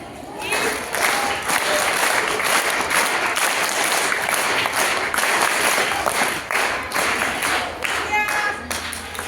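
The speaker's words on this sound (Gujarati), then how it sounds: "હવે ઊંધી તાળી. હવે ભેગું પેલા સીધી પછી ઊંધી." A group claps hands together in steady repeated unison, alternating straight claps with reverse back-of-hand claps, loud and close with a dense rhythmic pattern throughout.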